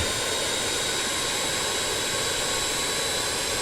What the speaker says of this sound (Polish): No i silnik się kręci.